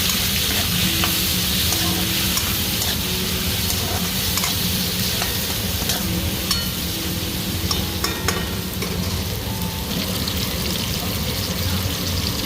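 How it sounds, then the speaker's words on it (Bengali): Prawns frying with salt and turmeric in a pan give a loud, continuous close sizzle, with stirring scrapes and clicks over it throughout. "ভেজে নেব।"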